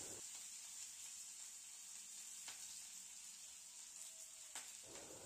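Bell pepper frying in oil with ginger-garlic paste for veg fried rice, giving a steady, even sizzle with a faint hiss and a couple of brief stirring clicks, no talking.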